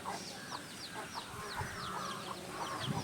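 Turkeys gobble and cluck in quick, repeated bursts close by, with several birds calling over one another.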